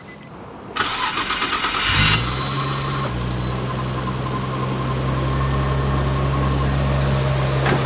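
A stock Nissan RB26DETT engine fitted with GTSS turbos, a head gasket job and a MoTeC ECU cranks briefly, catches about two seconds in, then settles into a loud, steady idle with no talking.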